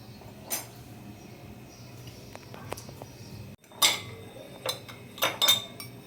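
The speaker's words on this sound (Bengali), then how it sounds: "আইসের কিউবগুলো দিয়ে দিচ্ছি এরপরে" Ice cubes drop into a glass of Bengali-style roasted mango drink (aam panna), giving a few bright clinks and knocks, with a short burst first and then several sharper hits near the end.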